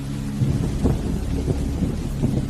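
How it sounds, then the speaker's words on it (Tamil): Heavy rain pours down steadily while deep rolls of thunder rumble repeatedly through the downpour, loud and close, with no voices. "ஆமாண்டா டே, செம்ம மழைடா"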